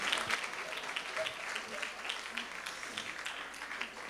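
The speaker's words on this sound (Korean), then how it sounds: "다시 한번 감사의 박수 올렸으면 좋겠습니다" A gathering at a dream school event gives a round of thank-you applause. It comes as a faint, diffuse patter of clapping throughout, fairly distant and low in level, with a possible murmur of voices underneath.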